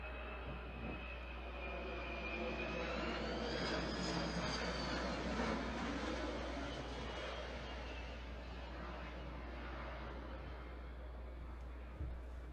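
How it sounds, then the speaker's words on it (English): A KC-10 / DC-10 air tanker passes overhead above a wildfire valley with a broad, steady jet roar that swells and fades across the whole stretch, joined by a rising engine whine and low rumble. "Here comes the KC-10, or DC-10."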